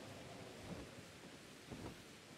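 Rain and thunder from the video game Pokemon Legends: Arceus: faint, steady rain hiss with a couple of soft, distant rumbles of thunder, no voices.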